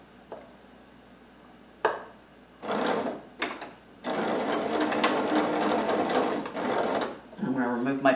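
A sewing machine stitching and back tacking a seam on a mannequin pin cushion, with short bursts of whirring and then a longer run of rapid stitching, close up, with a voice speaking near the end.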